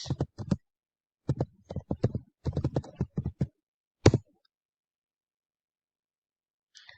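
A computer keyboard is typed on in quick clustered bursts of crisp, close clicks, broken by short pauses and ending with a final keystroke and silence.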